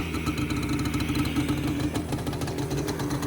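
A Yamaha Banshee quad's engine, a barn find with suspected top-end ring rattle, idles steadily close up with a continuous rapid rattling putter throughout.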